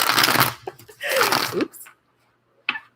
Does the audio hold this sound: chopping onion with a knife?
no